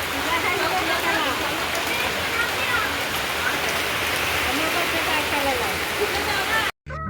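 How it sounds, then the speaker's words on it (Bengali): Heavy village rain drumming steadily and loudly on surfaces close by, a continuous wash of splatter that cuts off abruptly near the end, with a voice speaking over it. "প্রচুর বৃষ্টি হচ্ছে আজকে"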